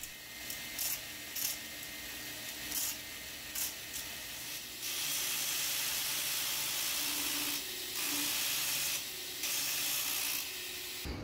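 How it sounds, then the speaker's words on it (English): Surface grinder grinding steel bars for a Viking seax, a sustained broadband hissing grind that starts and stops in short bursts, then runs long and steady with brief breaks, loud and close with no talk. "Back to the surface grinder."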